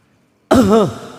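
A single short throat clearing after a moment of silence, close and fairly loud, with a rough voiced rasp that fades out.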